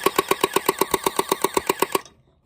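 A cheap splatter ball gel blaster toy gun fires a fast burst of about fifteen evenly spaced sharp pops over two seconds, loud and close, then stops abruptly.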